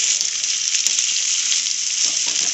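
Boiled potatoes tossed and fried in a hot pan for aloo kachori filling, giving a steady, close, loud sizzle with a few soft scraping stirs and no voices.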